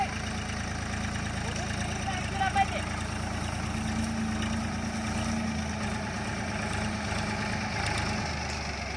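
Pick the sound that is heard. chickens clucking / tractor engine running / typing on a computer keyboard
tractor engine running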